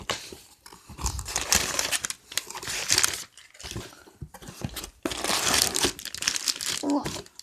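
Newspaper wrapping crackles and crinkles loudly up close as a small package of liquid silicone is unwrapped by hand, in bursts separated by short pauses, with a voice speaking briefly under it.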